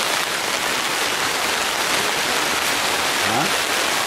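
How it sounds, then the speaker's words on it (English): Heavy rain drums on a camping tent in the woods, a dense, loud, unbroken hiss of drops close overhead for the whole stretch. "Heavy rain."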